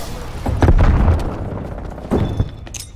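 Grenade blasts in the Call of Duty Black Ops Cold War multiplayer game: a deep booming explosion around the start, then a second thump a little later, both with low rumbling tails.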